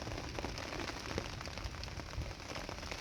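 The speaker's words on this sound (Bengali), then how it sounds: "বৃষ্টি শুরু হয়ে গেছে, আমরা ছাতা টাঙিয়ে বসে আছি" Steady rain patters on a surface nearby, likely an umbrella, a soft continuous hiss with scattered drops, fairly quiet and with no voices.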